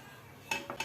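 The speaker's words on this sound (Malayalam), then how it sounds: "ദോശക്കല്ല് വെച്ച്" A dosa griddle is set down on a gas stove, making three quick metallic clanks close by in an otherwise quiet kitchen.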